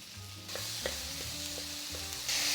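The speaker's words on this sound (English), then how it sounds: "Stir-frying the tomatoes in high heat brings out the sweetness and thicken the sauce" Oil sizzles steadily in a hot pan over high heat while a spatula scrapes and clacks several times, stir-frying tomatoes; the sizzle swells louder near the end.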